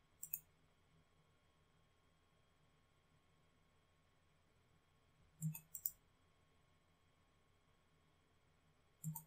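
A computer mouse clicks in a quiet room while a drive is set up: one crisp click, then a quick double click several seconds later, then a final click, with a faint electrical hum between them.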